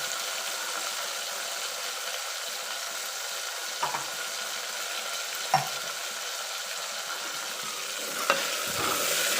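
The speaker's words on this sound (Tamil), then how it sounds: "தக்காளியை சேர்த்து நல்லா வதக்கிக்கலாம்" Pureed tomato paste sautéing with onions in a pan while preparing curry leaf kuzhambu, a steady soft sizzle throughout with a few brief stirring clinks, close and fairly quiet with no talking.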